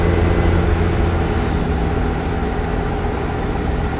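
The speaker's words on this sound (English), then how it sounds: "That's the Jake brake, though." Jake brake on a semi truck in American Truck Simulator, a steady low rumbling drone with a faint whine above it, continuous and fairly loud throughout with no talking.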